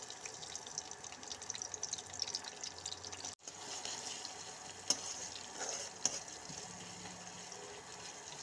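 Gourd leaves and stems fry in a pan with onion, green chili and garlic, giving a soft, steady sizzle with a few sharp clinks of stirring, fairly faint and with no talking.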